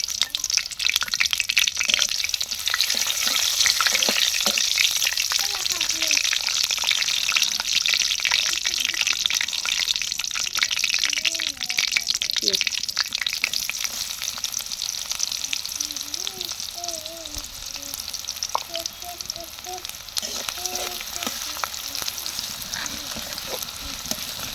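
Bay leaves, cloves, cinnamon and cardamom with onions frying in hot oil for a broiler chicken curry with tomato, giving a constant loud hiss and crackle, with faint background voices murmuring under the sizzle.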